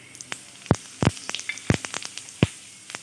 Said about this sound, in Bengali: আর ওই তেলে দিয়ে দিচ্ছি শুকনো লঙ্কা, জিরা, গোটা এলাচ আর দারচিনি।